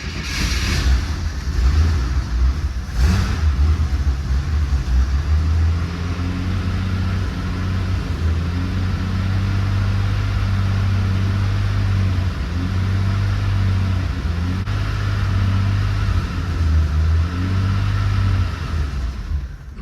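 An AMC Eagle engine idles steadily and loudly close by, with a low, even rumble and slight changes in pitch as it runs with a possible fuel pump problem.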